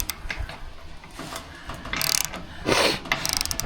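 A ratchet clicks in quick bursts while tightening a bolt and nut on a shrunken post during off-grid winter maintenance, with a louder run of rapid clicks in the second half and no talking.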